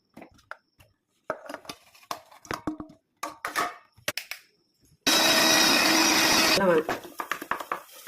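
After a few clinks and knocks, a mixer grinder roars loudly for about a second and a half blending chopped tomatoes, then stops, followed by more clattering.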